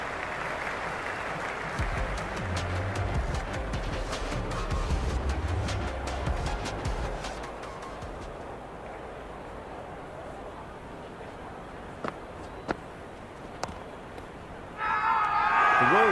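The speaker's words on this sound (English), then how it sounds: "The crowd are really getting quite raucous." A virtual crowd in a Cricket 26 stadium cheers and roars steadily in a broad continuous wash, easing off partway through, with a few sharp knocks and a brief burst of noise at the end.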